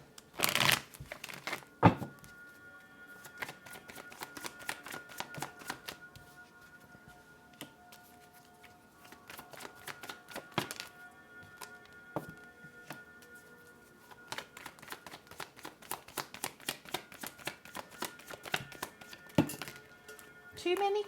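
Tarot cards being shuffled in repeated bursts of fast riffling and flicking, close and crisp, separated by quieter pauses, with a voice talking faintly in between.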